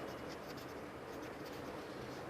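Pen writing on paper, a soft, continuous close scratching at low volume with no voice over it.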